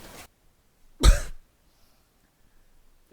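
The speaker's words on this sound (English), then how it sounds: "I coughed on the mic." A single sharp cough right up against the microphone, loud and close with a burst of breath, surrounded by near silence with a faint sound just before it.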